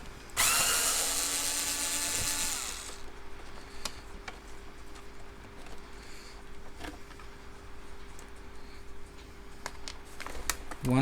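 Power screwdriver backing screws out of the filler tube on a Hoover Turbopower Junior U1220 vacuum cleaner, one loud close whirring burst of about two and a half seconds, then faint ticks and handling noises until a short sound at the end.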